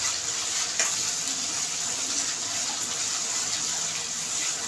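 Onion roasts in hot oil in a pan for misal, giving a continuous bright sizzling hiss at steady close-up volume, with no talking.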